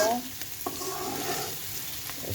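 Carrot and potato pieces fry in a pan as a steady, close sizzle with light stirring scrapes, short and even throughout.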